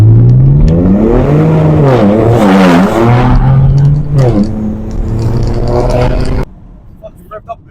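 Modified stage 2+ BMW 335i with the N54 engine revving loudly nearby, the pitch sweeping up and down in a few uneven rises before cutting off sharply, with people talking over it.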